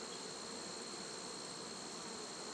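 Honeybees buzz steadily around an open hive during an inspection, a dense, even drone that is close but fairly quiet, with no voices over it.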